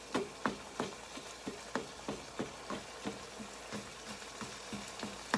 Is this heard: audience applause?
no